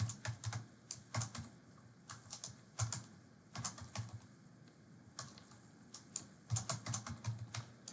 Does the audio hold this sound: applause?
no